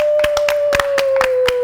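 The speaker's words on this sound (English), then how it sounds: "Give us a round of applause." Studio audience on a TV talk show clapping to welcome a guest: sharp, evenly spaced claps over a steady sustained tone, with no voices.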